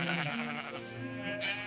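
Sheep bleat in an enclosure, a few wavering calls overlapping close by and at moderate volume, with no talking.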